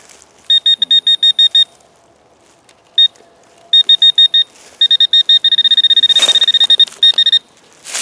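Electronic beeping in short rhythmic bursts, then a rapid fast-pulsing stretch as a metal detector rings up over a mineral rock in New Hampshire woods in spring; close and clear with faint background hiss.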